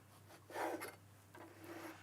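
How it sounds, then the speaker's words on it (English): A serrated knife sawing the crusts off a slice of bread, two short rasping strokes, close and soft, separated by a brief pause. "we'll grab a serrated knife for this and carefully cut the sides off"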